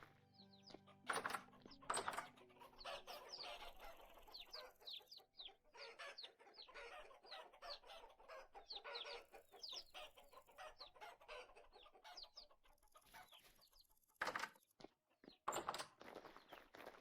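A flock of chickens with a rooster in Vintage Story clucks steadily for the whole stretch, with footsteps and a couple of louder crowing bursts rising over the chatter.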